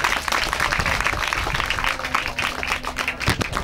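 Sustained applause from a school audience greeting the director, dense continuous clapping from a sizeable crowd of students, fairly loud and close with no talk over it.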